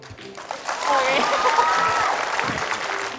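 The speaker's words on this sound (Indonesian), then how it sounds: "Yang cantik biasanya tepuk tangannya kenceng sih." A young studio audience on a TV talk show breaks into applause, swelling after a moment into a steady roar of clapping with voices and cheers mixed in.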